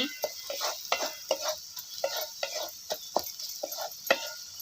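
A turmeric spice mixture stir-fried in oil, heard mostly as a series of close, rhythmic spoon scrapes and clinks against the pan with only a faint sizzle beneath.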